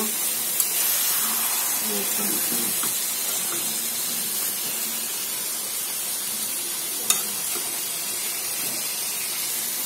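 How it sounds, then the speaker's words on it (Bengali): Chicken frying in a pan, a steady close hiss and sizzle running throughout with a couple of brief clicks. "চিকেন রান্না করতেছি মেয়ের জন্য"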